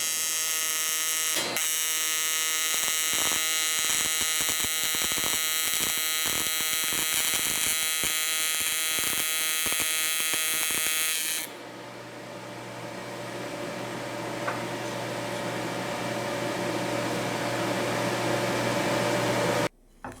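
A TIG welding arc runs on metal without filler rod, a loud, steady electric buzz with crackling for about eleven seconds, then a smoother, softer hum that cuts off abruptly at the end.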